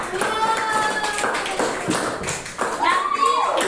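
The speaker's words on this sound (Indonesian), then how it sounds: "Tepuk tangan untuk semuanya." A classroom of children claps hands together in a brisk, sustained round of applause, with overlapping young voices calling out over the clapping.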